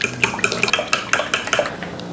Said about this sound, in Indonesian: Diaduk.